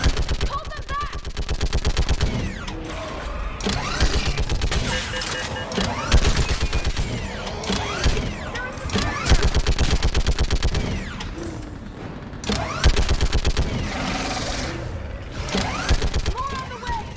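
Mounted gun in Mass Effect 3 firing in rapid sustained bursts at enemies on a bridge, loud mechanical rattling volleys with short breaks, while battle voices shout over the din.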